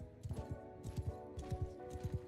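Horse hooves gallop in a steady, rapid clip-clop rhythm in the medieval combat game Mount & Blade II: Bannerlord, fairly faint and even, with a low musical drone underneath and no speech.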